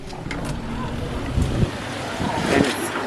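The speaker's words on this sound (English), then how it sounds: "And it's very windy out here." Steady broadband wind roar buffets the microphone on the deck of a cruise ship at sea, with low rumbling gusts swelling and easing throughout; no voices.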